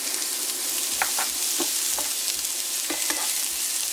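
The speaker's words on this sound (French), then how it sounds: "Alors là je les poêle environ 2 minutes" Onions and courgette fry in olive oil in a pan, with a steady close sizzle throughout and a few light scrapes of a utensil stirring the vegetables.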